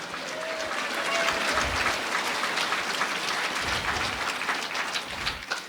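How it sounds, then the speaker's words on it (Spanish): A crowd applauding, a dense steady patter of clapping that continues without a break from start to finish. "Fuerte aplausos a Cristo Jesús, aleluya."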